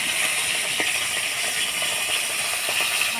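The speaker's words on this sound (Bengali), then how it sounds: "মাছের মাথাগুলো ভাজে নিলাম, এবার তুলে নিব।" Hilsa fish heads frying in oil give a steady, dense hiss that fills the clip, with a few faint crackles and pops over the constant sizzle.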